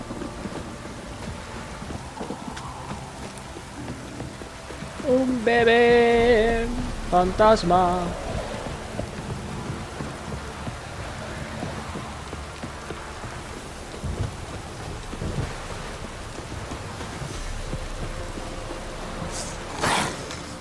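Heavy rain pours steadily in The Witcher 3, a dense hiss of downpour running throughout, while a character speaks briefly over it midway.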